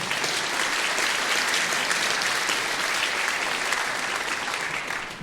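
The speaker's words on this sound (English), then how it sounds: "Nancy Barthel, give her a nice round of applause." A community band concert audience claps for a named volunteer, steady dense applause filling the room at full strength for several seconds before tapering slightly at the end.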